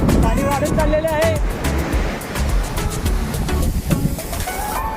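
Sea waves surging on a Konkan beach at night, a steady loud wash of surf with swelling crashes, while someone talks excitedly over the roar.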